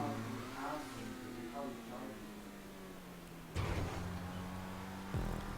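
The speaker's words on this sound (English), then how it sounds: "I don't drive this car often, as you can tell." A car engine in GTA V drives at a steady mid-pitched hum with gentle shifts in revs and a couple of sudden bumps or gear changes, fairly quiet and under occasional talk.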